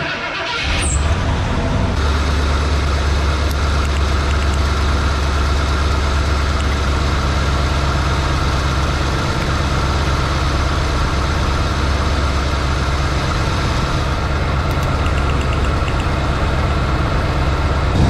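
A cheap old truck engine runs close and loud with a steady, rough idle, testing for a dead cylinder by pulling spark plug wires. The engine drones continuously, with a slight shift in tone early on.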